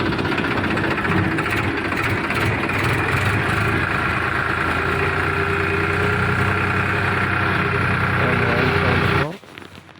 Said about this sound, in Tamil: வண்டி ஸ்டார்ட் பண்ணியாச்சு